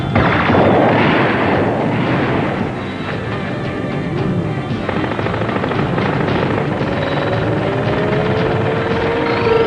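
A sci-fi laser cannon fires in a Czech-dubbed action TV series: loud, dense blasting and booming that runs almost nonstop, with a rising mechanical whine near the end.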